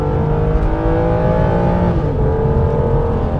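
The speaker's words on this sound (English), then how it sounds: "Let's drop it down a gear and see what the performance is like." An Aston Martin DB9 V12 drops a gear and pulls hard, its engine droning loud and steady with a rising, layered tone that shifts midway as the revs change, heard close from inside with no voices.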